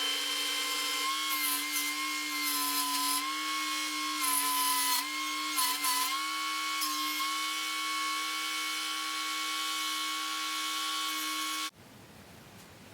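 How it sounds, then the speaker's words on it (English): A round Dremel bit carves a greenheart wood cleat with a steady, close, high-pitched whine that holds for about twelve seconds, wavering a little under load before it suddenly cuts off. "We're using a perfectly round Dremel bit to do all the carving"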